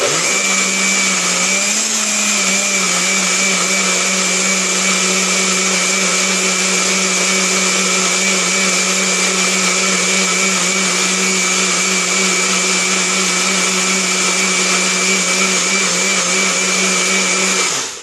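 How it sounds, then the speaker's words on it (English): A Nutribullet blender runs steadily at full power on a chocolate avocado smoothie, a loud, close motor whine with a slight pitch dip near the start, holding constant for the whole stretch with no voices. "So now you just put the lid on, start blending it up and see how thick it is."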